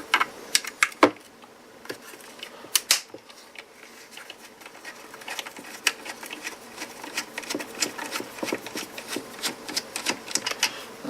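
A special tool works Torx self-tapping screws out of a NiCd power tool battery pack, giving sparse sharp clicks and taps, then denser small scraping clicks, close and quiet.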